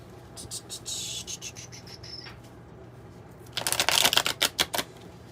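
An oracle card deck is shuffled up close in quick bursts of riffling flicks, a short soft run followed by a louder, crisper run of rapid snaps.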